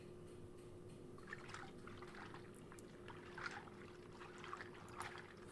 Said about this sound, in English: Okay, so there's water sound effects in the background.